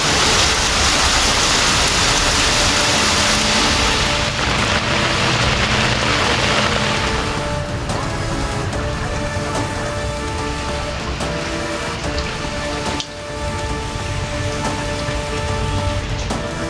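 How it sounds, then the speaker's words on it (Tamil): Heavy monsoon rain pours down loudly and continuously in Erode district, a dense roaring hiss that eases slightly partway through but keeps drumming steadily throughout. "வெளுத்து வாங்கிய கனமழை"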